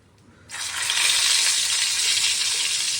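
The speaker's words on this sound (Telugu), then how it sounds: "ప్యాన్లో ఆయిల్ బాగా కాగింది. ఇప్పుడు మనం గుత్తి వంకాయలు వేసుకుందాం." Stuffed brinjals drop into hot oil in a pan for Andhra-style guthi vankaya fry, setting off a sudden loud, steady sizzle that starts after a brief quiet and holds evenly, close and alone with no talk.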